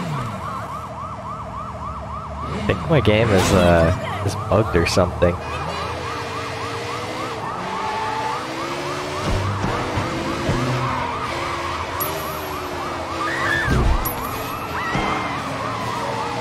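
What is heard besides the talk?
police siren in video game Sleeping Dogs: Definitive Edition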